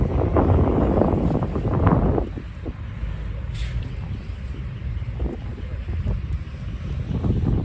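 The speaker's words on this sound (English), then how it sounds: "That way the wind's not blowing it all over the place" Steady outdoor wind rushes and buffets against the microphone, heavier in the opening two seconds and then settling into a continuous, lower roar through the rest.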